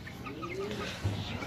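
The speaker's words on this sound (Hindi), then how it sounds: "ए साडी मुर्गी वेखो" A hen clucks softly amid farmyard ambience, with a few low, short clucks under a steady background hiss and no clear talk.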